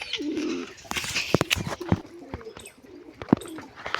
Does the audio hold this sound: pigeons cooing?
yes